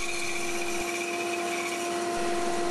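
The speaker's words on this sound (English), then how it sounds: "Cut the pentagon shape out on a bandsaw" A bandsaw cuts a pentagon shape from a piece of scrap pine, giving a steady, moderately loud whine with a sustained tonal hum and no pauses.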